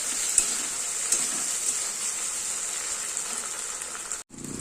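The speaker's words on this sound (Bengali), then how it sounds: "সবগুলোকে এবার ভালো করে কষাবো" Ground spice paste mixed with freshly ground green chili paste fries in a pan for chicken kosha, making a steady close hiss and sizzle that cuts out abruptly just before the end.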